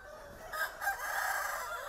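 Chickens on a hill farm in Sóc Sơn, Vietnam, with a rooster crowing clearly at close range through most of the two seconds, no voices over it.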